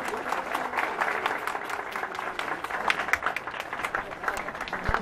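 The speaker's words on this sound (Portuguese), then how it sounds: "E uma salva de palmas a Jesus." Congregation applauding at a Christmas church service, steady dense clapping from a crowd lasting throughout, fairly near and even in loudness.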